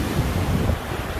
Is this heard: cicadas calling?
no